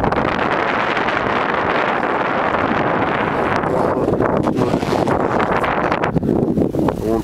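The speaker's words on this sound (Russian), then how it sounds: "Дует ветерочек хороший, освежающий." A fresh evening wind blows steadily across the open ground of Ayon Island, roaring and buffeting the microphone at close range for the whole stretch, loud and continuous with gusty fluctuations.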